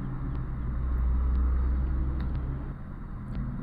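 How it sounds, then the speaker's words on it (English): A truck passes on the left of a pilot car on a highway shoulder, heard as a steady heavy low rumble and road roar that swells to a peak near the middle and then eases off. "The truck is passing me on the left."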